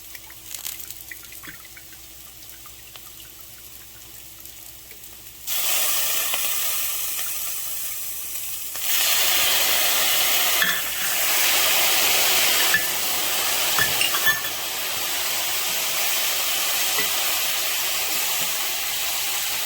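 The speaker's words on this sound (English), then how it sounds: "let's go ahead and add in a 1/4 cup of balsamic vinegar" Balsamic vinegar hits a hot pan of smoked pork butt after a quiet stretch, breaking into loud, steady sizzling and bubbling that surges again partway through and holds strong to the end.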